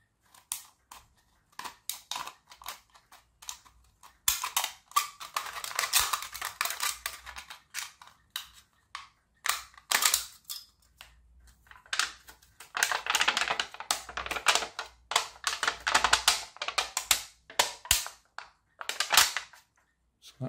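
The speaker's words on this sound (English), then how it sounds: "So a pair of scissors would probably do the job" Scissors cutting through an aluminium drink can, heard as bursts of crisp snipping and crinkling metal separated by quiet pauses, close and fairly loud.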